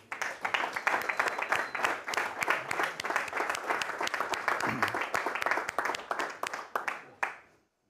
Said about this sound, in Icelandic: Við gefum þeim gott klapp.